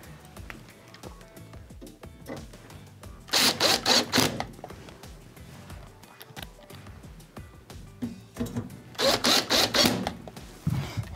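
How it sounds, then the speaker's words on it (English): Phillips screws are driven into a Whirlpool oven's control panel with a power driver, giving two short whirring bursts several seconds apart over quiet handling noise nearby. "We're gonna reinstall the 4 Phillips style screws that mount the actual control panel or secure it."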